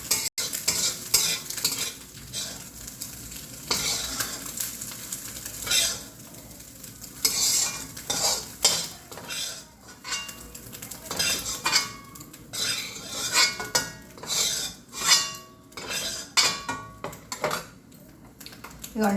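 Green chili and onion paste fries in hot oil in a pan for egg masala, a steady sizzle under repeated scraping and clinking of a spoon against the metal pan, continuous and close.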